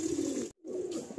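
A breeding pigeon with purple upper plumage and blue eyes ringed in gold coos in low, throaty rolls close by, broken by a brief silent gap before the cooing resumes.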